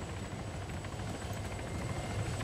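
Helicopter flying in the military shooter game Arma 3, a steady loud rotor and engine drone with a low rhythmic thump running unbroken throughout, no talk over it.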